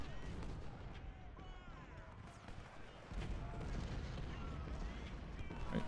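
Artillery fire in Ultimate General: Civil War booms and rumbles faintly in the background, repeated distant blasts layered with scattered battle noise.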